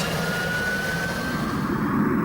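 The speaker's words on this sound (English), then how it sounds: "the Gloucester E-28 flew low and fast over Cranwell Airfield at 370 miles per hour" Gloster E.28/39, Britain's first jet aircraft, passes low and fast over Cranwell Airfield at about 370 mph, giving a continuous loud jet roar with a rising whine.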